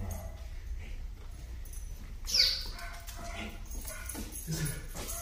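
A dog named Poppy whines and whimpers in soft, intermittent bursts during a training session, with a louder yelp-like cry partway through over low background rumble.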